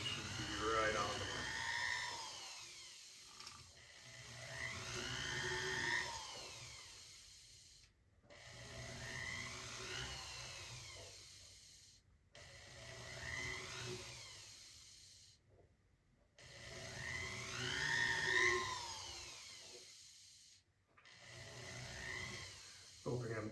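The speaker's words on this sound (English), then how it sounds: "So here's my next successive drill bit." A power drill runs with a successive, larger bit while locating prongs, whining in several long bursts separated by short pauses, at close range under occasional talking.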